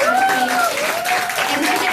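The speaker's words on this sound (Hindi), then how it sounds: "तो एक बार जोरदार तालियां हो जाए" Audience applause at an institute's anniversary celebration stage show, steady clapping running under a presenter's voice, with a sustained musical tone layered in the background.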